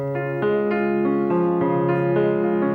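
Chopin piano music played without legato, notes struck one after another with small gaps between them rather than smoothly connected, a detached melody over sustained lower tones, close and clear.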